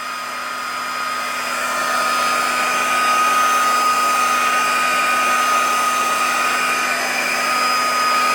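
A heat gun blows steadily while softening warped pinball playfield plastics on a Williams machine, a constant close-up whoosh with a faint whine that holds level throughout, and no one speaks.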